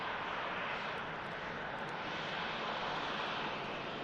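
An Air Transat A321 long range Neo airliner roars steadily at Manchester Airport, a broad, even jet rumble heard at a distance.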